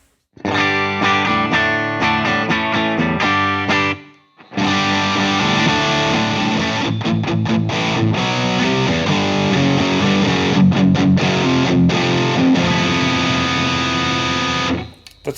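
Distorted electric guitar chords through a Dazatronyx BSX Dual Drive overdrive pedal ring out loud and dense, broken by a brief pause, with overdriven sustain and strummed accents throughout.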